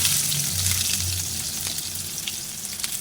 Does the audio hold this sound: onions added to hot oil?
yes